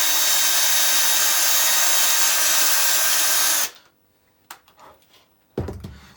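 A power drill whines loudly and continuously for several seconds as the bit drills through metal, then stops abruptly, followed by a few faint clicks and a short thud.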